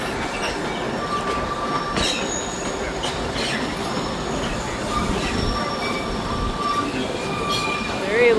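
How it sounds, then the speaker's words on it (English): Train wheels roll steadily along the rails during a ride through green, mountainous St. Kitts, with continuous rumbling, rhythmic clicks and occasional faint squeals, heard from inside the moving car. "So she just said that this train ride is 1 hour and 40 minutes."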